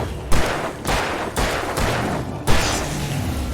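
Shotgun blasts from the video game Alan Wake Remastered: four sharp, loud shots at irregular intervals, each with a booming tail that rings into the next, heard close and without any talk.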